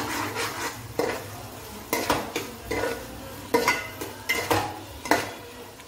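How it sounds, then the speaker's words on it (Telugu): A spoon scrapes and clacks rhythmically through onions and ginger garlic paste in a pan, about eight distinct stirring strokes over a soft sizzle, fairly close. "ఇక్కడైతే ఒక స్పూన్కి అల్లం వెల్లుల్లి పేస్ట్ కూడా వేసుకుంటున్నాను కదా. ఇప్పుడైతే బాగా కలుపుకుందాము."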